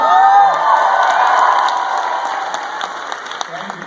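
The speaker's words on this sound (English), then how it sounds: "thank you for that applause" A crowd claps loudly at the start with cheers and whoops, the applause gradually thinning out and fading over a few seconds.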